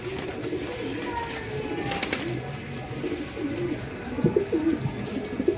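Pigeons coo repeatedly in soft, throaty bursts, growing a little louder toward the end over a steady murmur of background noise.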